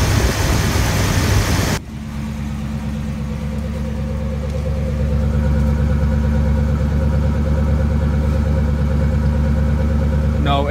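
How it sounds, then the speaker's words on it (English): A 1971 Chevrolet Beauville Sportvan's Chevy 350 V8 is cold-started without throttle, catching after a brief noisy start and then settling into a steady, deep, rumbling idle up close. "Time to start the engine. This is a cold start. No throttle needed."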